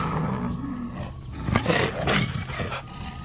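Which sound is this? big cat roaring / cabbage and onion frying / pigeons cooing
big cat roaring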